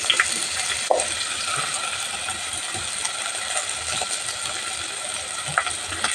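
Onions, green chillies, carrots and potatoes frying in a pan for biryani rice, a constant close sizzle with a few scraping stirs and clicks.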